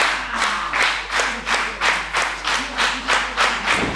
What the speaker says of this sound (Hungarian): A közönség megpróbálja visszatapsolni Nightrow-t ebbe a mérkőzésbe.